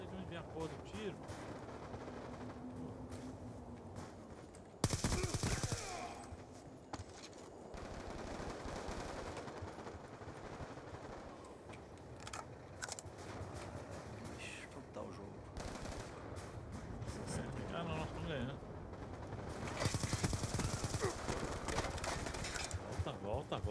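Gunfire in Black Ops 2, with loud bursts of shots near 5 and 20 seconds and scattered fainter shots throughout, under a steady game soundtrack and excited talk from players.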